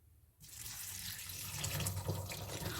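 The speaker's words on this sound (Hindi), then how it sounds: "इसमें गर्म पानी को डालेंगे" Hot water is poured onto boondi for raita, a close, steady splashing pour that begins abruptly after a brief quiet moment and continues to the end.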